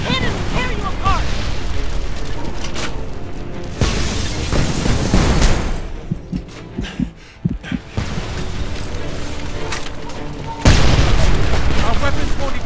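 Heavy tank cannon blasts and explosions in the war video game Homefront, loud repeated booms with rumbling aftermath, interspersed with battle noise and shouted voices.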